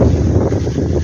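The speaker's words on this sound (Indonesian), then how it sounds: "Wah anginnya." Strong wind buffets the microphone with a loud, low roaring rumble that gusts unevenly throughout.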